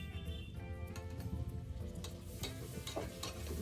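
Tomato and sambar powder sizzling in a pan for a wedding-style palav, a steady crackling fry with soft stirring clicks, close by and alone.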